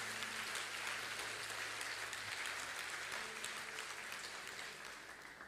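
A congregation in a church claps together in sustained, dense applause that holds steady and then slowly tapers off near the end.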